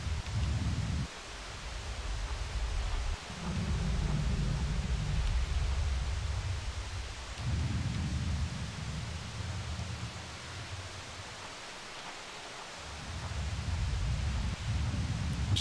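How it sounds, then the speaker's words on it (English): Steady rain ambience from the game Trials Evolution with the bike engine muted, a constant soft hiss of falling rain broken by swells of low rumbling that come and go throughout. "I like disabled the bike noise. So all you have is just this rain."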